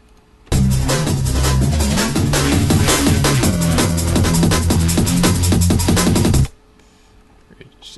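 Loud drum and bass beat with delay and destruction effects: a dense, distorted rhythmic loop of rapid drum hits over heavy bass bursts in abruptly for about six seconds, then cuts to quiet.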